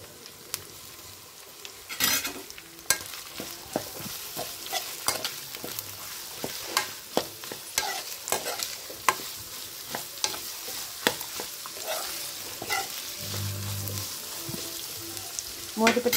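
Cauliflower and carrot are stir-fried, with a constant light sizzle under repeated sharp scrapes and taps of a spatula against the pan at a quick, uneven rhythm.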